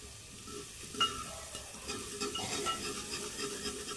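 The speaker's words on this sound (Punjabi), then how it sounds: "ਅੱਗ ਜਿਹੜੀ ਆਪਾਂ ਤੇਜ਼ ਕਰ ਲੈਣੀ ਹੈ ਤਾਂ ਕਿ ਤੜਕਾ ਜਿਹੜਾ ਜਲਦੀ ਭੁੱਜ ਜਾਵੇ" Oil sizzles steadily in a pan over a high flame as a tempering for radish curry fries, with a clink of a utensil and stirring scrapes.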